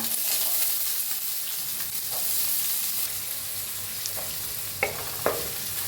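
Onion sizzles steadily in hot oil in a pan with cumin, mustard seeds and asafoetida, a continuous bright frying hiss with a few sharp crackles and pops near the end.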